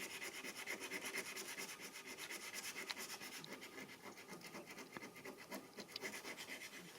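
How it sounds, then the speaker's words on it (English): Sandpaper rubbed by hand over rusty metal, a continuous rhythmic rasping scratch of back-and-forth strokes, close but faint. "Using the sandpaper. She's getting rid of rust, or trying to, little bits."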